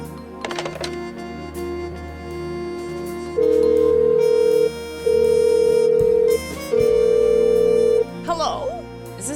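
Telephone dialing and ringing in the video game Blackwell Unbound: a few short dial blips, then three long ring tones in a steady rhythm, loud and clean, with brief voices and music around them.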